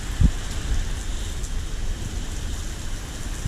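Cold rain and gusting wind during a severe thunderstorm, heard from inside a Ford Bronco with the windshield removed, a steady broadband wash of rain and wind with a brief low thump near the start.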